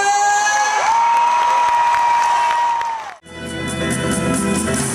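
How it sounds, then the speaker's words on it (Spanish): A crowd at an outdoor orchestra concert in Oza, Teo, shouting and applauding loudly over a sustained high whistle-like tone, breaking off abruptly, then band music and noise returning. "grito e aplauso, el grito e aplauso máis acojonante de todos"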